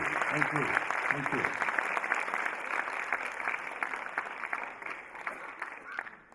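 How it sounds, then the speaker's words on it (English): A large crowd on a walk of hope claps steadily and warmly, a dense sustained wash of applause, with a brief voice near the start before the clapping fades at the end. "You are clapping because you are clapping from your heart."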